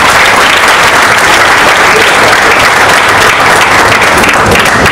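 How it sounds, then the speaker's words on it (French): Dense, loud applause from an audience at a school ceremony, steady clapping throughout with no talk over it. "je souhaiterais que vous puissiez ensemble applaudir pour vos parents"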